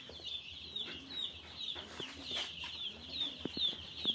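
Tiger chickens on a farm make soft intermittent clucks over a steady high-pitched chorus of chicks peeping, with a low background hum and no voices.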